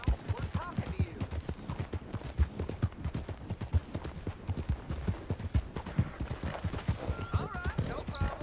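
Horse hooves clip-clopping in Red Dead Redemption 2, a steady rhythmic trot of close, distinct hoofbeats that continues throughout, with voices talking over it.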